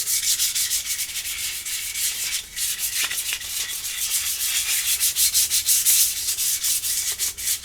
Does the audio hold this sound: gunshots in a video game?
no